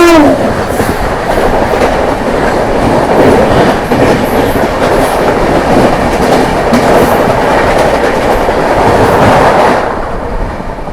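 The New Jalpaiguri–Udaipur City Weekly Express rolls near Barsoi, a loud steady rumble with clacking wheels over rail joints heard from on board, fading a little toward the end.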